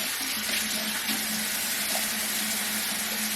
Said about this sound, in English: now I'm just gonna rinse the rest of my face.